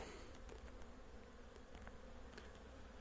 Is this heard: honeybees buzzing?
yes